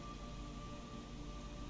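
Steady, dense rain hisses continuously over a low rumbling bed and a faint sustained tone, with no voices, in the video game Metal Gear Solid 3.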